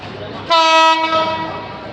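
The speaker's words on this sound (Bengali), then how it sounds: "আমাদের ট্রেনটি ইতিমধ্যে রাজবাড়ি রেলওয়ে স্টেশনে পৌঁছালো" A passenger train's horn blasts loudly for about half a second as it arrives at Rajbari railway station, then fades into a lingering tone over rumbling railway noise.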